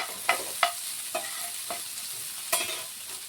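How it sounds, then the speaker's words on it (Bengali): Salted shrimp frying in oil in a pan, a steady sizzle broken by several sharp spatters and stirring scrapes spaced across the clip, close and fairly loud, with no talking. "তেল দিয়ে চিংড়ি মাছগুলোকে আমরা হালকা লাল করে ভেজে, চিংড়ি মাছগুলো আমরা দিয়ে দিলাম"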